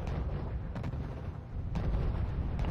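Super Pershing tanks firing in the wargame RUSE produce a couple of deep, booming cannon blasts over a low rumbling battle background, sounding distant and muffled.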